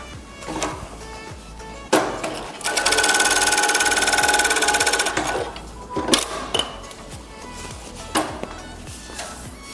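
JACK W5E industrial sewing machine stitching fabric, a few short clattering bursts then a loud, steady high-speed run of about three seconds, followed by more brief stitching spurts and clicks.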